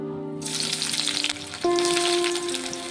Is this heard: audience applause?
no